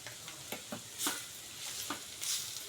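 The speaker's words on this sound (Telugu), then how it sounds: "కొద్దిగా ఉప్పు, సరిపడ కారం వేసుకొని బాగా కలుపుకోవాలి" Egg and tamarind leaf curry seasoned with salt and chili being stirred in a pan, soft sizzling under a handful of brief spoon scrapes and taps, close and quiet with no speech.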